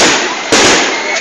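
Fireworks from a New Year's-style display crackle and burst loudly nearby. A sharp new blast hits midway through the sustained noise, and voices are faintly present.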